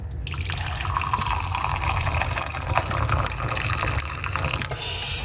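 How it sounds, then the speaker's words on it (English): Hot cucumber lemon infusion pours steadily into a cup close by, a continuous splashing trickle with small drips, ending with a brief louder rush. "Just pour it off into a cup like this."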